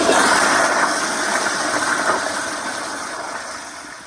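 Zurn EcoVantage toilet, a 2018 model, flushing with a steady broadband rush of water that starts strong and slowly fades over about four seconds, no voices.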